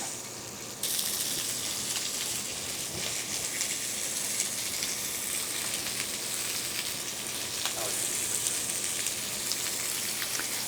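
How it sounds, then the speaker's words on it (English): Beef pieces sizzle loudly and continuously in a hot pan, a steady crackling hiss with scattered pops and no voices. "You can hear the sizzle, so that means your pan's nice and hot."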